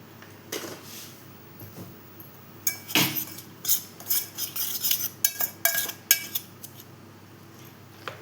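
A spoon clinks and scrapes against a bowl while mango pancake batter with a pinch of salt is mixed, giving irregular close metallic taps and stirring scrapes in quick succession.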